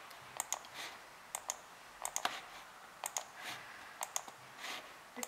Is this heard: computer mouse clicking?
yes